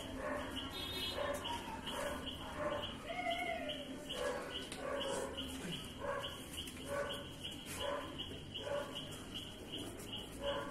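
A pit bull puppy mixes with adult dogs, giving repeated barks and yips at a steady pace with some whimpering, close and fairly loud, with faint talk in the background.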